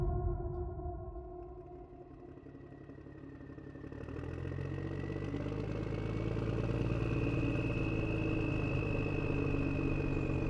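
A motorcycle engine starting up and settling into a steady running drone, rising after a quiet opening and holding a constant rumble to the end.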